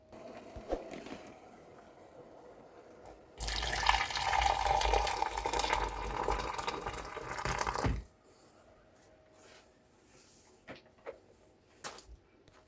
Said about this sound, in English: I'm going to add some boiling hot water and let it sit and brew for 5 minutes.